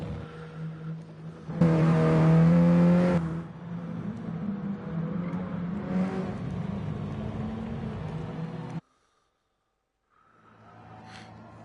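Mini Cooper race cars starting a race, their engines revving loudly together in a sustained roar that then settles into a steady drone before cutting off, followed by fainter engine noise.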